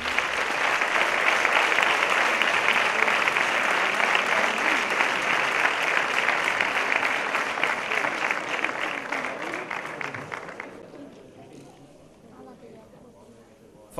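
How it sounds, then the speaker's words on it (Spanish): A sports awards gala audience gives a futsal team strong, sustained applause, dense clapping that stays loud for about ten seconds and then fades to scattered claps and murmuring. "Vamos a recibir con un fuerte aplauso"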